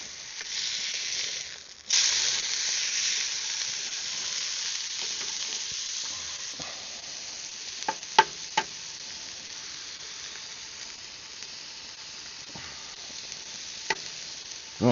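An egg frying on a camping pan outdoors, a soft steady sizzle with a louder burst early on and a few sharp scraping clicks later, no speech.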